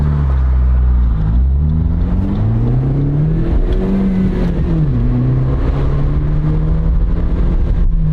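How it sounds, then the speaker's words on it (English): A small car engine with a standard transmission accelerates steadily, its loud, close drone rising in pitch through the gears with brief dips at each shift, carrying on alone without talk. "we're going to see what this little engine can do in a minute when the traffic gets out of the way"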